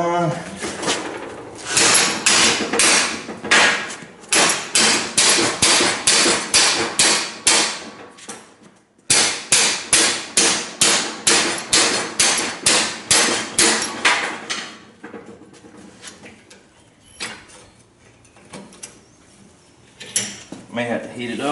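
Repeated hammer blows on metal while forging a river anchor for catfishing, loud ringing strikes in steady bursts with a short pause, then sparser hits near the end under a voice talking.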